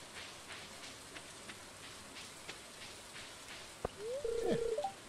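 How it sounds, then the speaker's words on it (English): Steady soft rain patters throughout in the Stardew Valley video game, with faint droplet ticks, followed near the end by a brief chirpy tone. "The valley looks more interesting in the rain, don't you think?"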